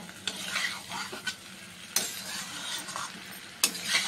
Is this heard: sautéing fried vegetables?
yes